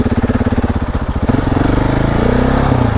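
A KTM 690 Enduro single-cylinder motorcycle rides an off-road trail at Trout Valley. Its loud, close engine thumps in a pulsing rhythm and then rises into a smoother, sustained drone as it accelerates.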